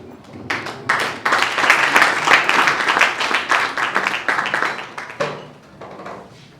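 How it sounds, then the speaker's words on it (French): An audience applauds a Radio Maria delegation at a 30th anniversary celebration of a polyclinic in Matadi, with loud, sustained clapping that rises quickly, holds steady for several seconds, then thins out into scattered claps. "Radio Maria, mettez-vous debout, on va vous applaudir."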